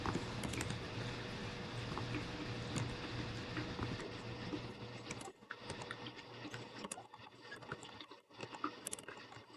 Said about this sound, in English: And it's just typing it in.